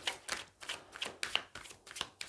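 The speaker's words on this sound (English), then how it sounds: "All right, last shuffle." A deck of tarot cards is shuffled slowly by hand, giving soft riffling bursts in a loose repeating rhythm, close and quiet.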